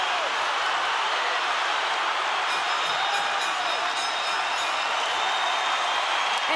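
A boxing arena crowd roars on its feet in the final seconds of a women's bout, a loud, dense and steady wash of cheering with some voices faintly within it.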